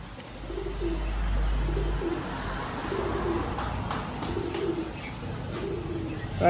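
A pigeon at a bird shop coos in low repeated phrases over a steady background hum, with a few faint chirps and clicks nearby.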